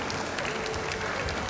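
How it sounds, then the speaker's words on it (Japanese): An audience at a flower-show award ceremony applauds the prize winners, a brief, dense, steady patter of clapping across the hall. "会場の皆様、もう一度改めて受賞された皆さんに大きな拍手をお送りください。"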